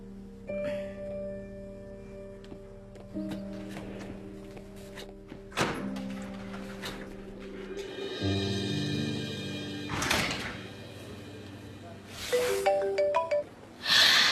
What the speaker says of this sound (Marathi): माझा फोन.